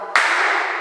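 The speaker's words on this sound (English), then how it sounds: "Stop, clap, stop, clap, step, jazz, box, side." A single sharp hand clap struck as part of a line dance step, loud and close, with a bright attack and a short fading tail, sounding alone without any talk.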